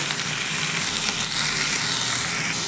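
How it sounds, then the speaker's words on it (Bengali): Snake gourd sizzles steadily in hot mustard oil with chopped onion and green chili, a loud, close, unbroken frying hiss that holds for the whole stretch with no voices. "এর মধ্যে আমি চিচিঙ্গে দিয়ে দিচ্ছি। চিচিঙ্গেটাকে ভাজি করবো।"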